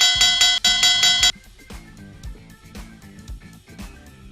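A bell rings out loud and close with several quick repeated clangs to mark the last lap of a fast criterium bike race. Low rumbling noise from the race continues beneath it once the ringing stops.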